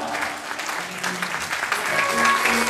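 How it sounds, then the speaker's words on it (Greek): At a DXN Greece–Cyprus anniversary awards event, an audience breaks into applause for Toula Paraskeva, steady clapping throughout the brief moment. "Όλοι μαζί ένα μεγάλο χειροκρότημα για την Τούλα την Παρασκευά!"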